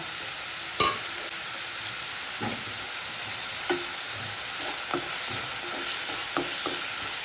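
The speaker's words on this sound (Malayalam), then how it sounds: "അതിന് ഇഞ്ചിയും വെളുത്തുള്ളിയും കൂടെ ചതച്ചതാണ്, ഇത് ഇട്ട് കൊടുക്കാം കേട്ടോ" Crushed ginger and garlic sizzling in hot oil with curry leaves for pepper chicken, a steady close hiss punctuated by several clinks and scrapes of a spoon against the pan, with no one speaking.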